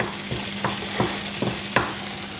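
Lamb mince frying in a pan with onions, a constant close sizzle broken by several regular scraping stirs about every half second, no talking.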